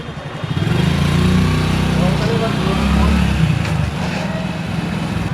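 A motorcycle engine idles and revs nearby in a large building with no bike parking, a loud steady rumble that swells twice while people talk faintly in the background.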